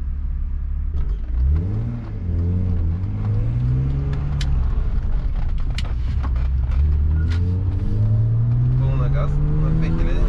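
A BMW 320i E36 engine revs up toward about 4000 rpm, its loud, steady drone climbing in pitch over several seconds, dipping once, then rising again close by.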